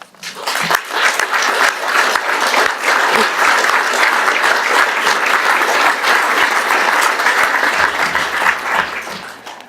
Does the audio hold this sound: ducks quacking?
no